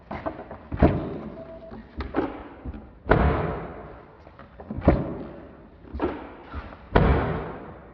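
Close, heavy thuds of a 2025 Tesla Model Y Long Range AWD car door being opened and slammed repeatedly, each slam followed by a short dull ring, with lighter latch clicks in between.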